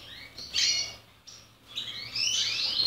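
Spanish timbrado canaries in breeding cages give short, bright chirps and trills in a few bursts. The birds sound close but fairly quiet, with faint room hum underneath.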